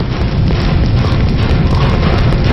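A bomb blast in a film scene gives a loud, dense roar that fills the whole moment. It holds steady for a couple of seconds with no pause.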